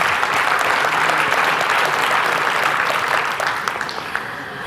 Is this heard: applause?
yes